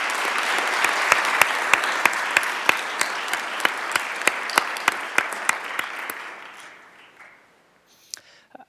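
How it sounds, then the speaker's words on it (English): Audience applause for sponsors at a broadband summit, a dense sustained round of clapping with a few sharp, prominent claps standing out at a regular beat, tapering off to near silence before a couple of stray claps. "Please join me in giving a round of applause for these sponsors."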